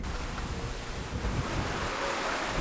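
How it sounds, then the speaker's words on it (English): Rough seas off the south end of Texada Island in the Salish Sea, with waves churning and strong wind roaring across the microphone in a dense, continuous rumble heard from aboard a boat, no talking. "The waves and wind, which have miles to build up through the Salish Sea, meet land at the south end of Texada"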